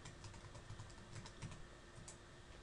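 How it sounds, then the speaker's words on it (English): Quiet, rapid keystrokes on a computer keyboard, a steady run of light clicks typing a short web search, close and alone with no talking. "Now, I will type in Hotmail into Google."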